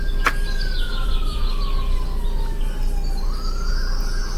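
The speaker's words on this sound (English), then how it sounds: "I'm hearing sirens in the background" A siren wails in the distance, its tone sliding slowly down and then up again over steady background noise.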